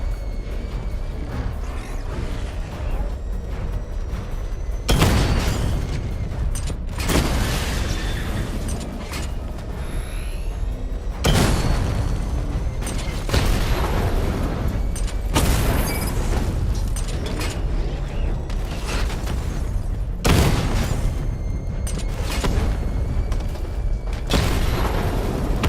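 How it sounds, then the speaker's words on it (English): Missile barrage explosions in Batman: Arkham Knight boom repeatedly in loud, heavy bursts, spaced every few seconds over a constant rumbling game soundscape. "Charge up missile barrage to level 2 and destroy 4 active targets to complete diagnostic test"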